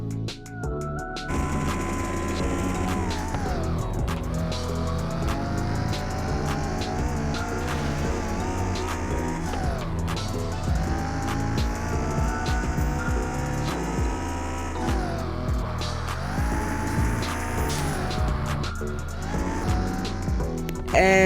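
A car drifting in a realistic open-world mobile driving game, with a continuous engine roar and long tire squeals that rise and fall through repeated slides, loud and close, backed by a faint music-like bed.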